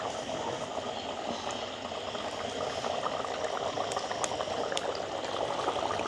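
Curry simmering down in a pot on a village kitchen fire, a steady dense bubbling boil held close and constant with a few brief clicks, no voices.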